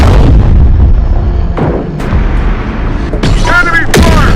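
Loud, dense battle in the Terminator Dark Fate Defiance video game: heavy booming artillery and explosions with scattered gunfire rolling continuously, with brief voices shouting over the din near the end.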